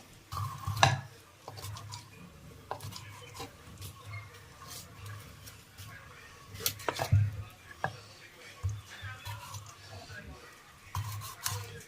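A knife scores raw chicken pieces being prepared for grill chicken, giving intermittent scraping cuts and light clinks close by, with faint background talk.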